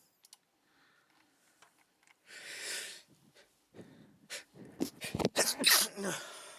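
A single person sneezes during a Magic: The Gathering Commander game, the sharp burst coming after a few sniffs and breaths, close and fairly loud amid quiet table chatter.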